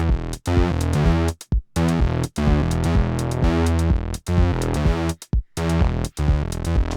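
Synth bassline with 40% groove quantize swing, a loud, dense, repeating phrase of punchy notes with rhythmic gaps and a shuffled, lilting feel, heard alone without talk.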